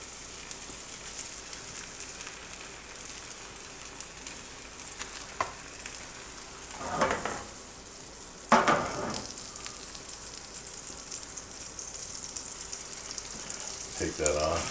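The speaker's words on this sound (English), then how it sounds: "So I always put the meat in kind of first. Just let it fry a little bit." Two slices of sandwich meat fry in a pan for an egg sandwich, giving a steady soft sizzle with a few louder crackling bursts and faint clinks partway through.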